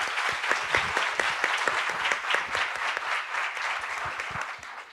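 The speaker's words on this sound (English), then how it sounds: "So let's give a warm welcome and a round of applause to Mr. Yanis Varoufakis" Warm applause from a conference audience welcoming Yanis Varoufakis at the Global Perspectives Summit, steady dense clapping with sharp individual claps standing out, sustained for about five seconds with little talk.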